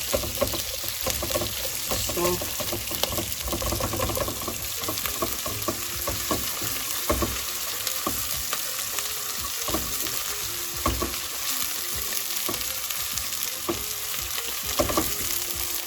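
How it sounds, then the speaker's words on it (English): Onions sautéing in a pan for a royal potato curry (shahi aloo), a steady close sizzle and fry with scattered scraping stir strokes running throughout, fairly loud and without talk. "Now we need to saute them until they are translucent."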